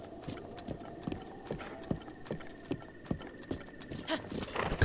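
Horse hooves trot at a steady rhythm in the video game Zelda Breath of the Wild, with evenly spaced close thuds over soft game ambience and a faint tone underneath.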